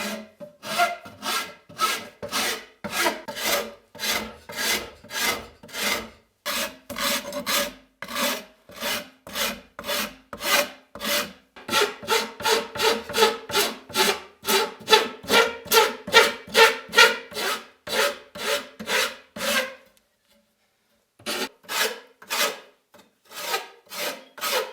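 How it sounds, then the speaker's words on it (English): Rhythmic rasping of a file worked back and forth along the wooden edges of a bow, strokes steady and close, with a short pause near the end before resuming. "I can file down the sides here and that'll fit this perfectly to the back."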